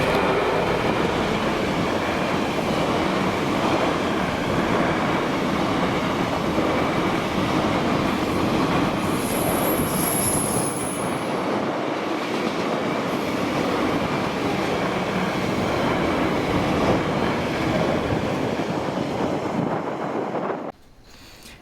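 A heavy Class 66 diesel locomotive, 66501, rumbles past hauling an engineers train in Scotland, its engine drone steady and loud throughout with rail clatter, before cutting off abruptly at the end.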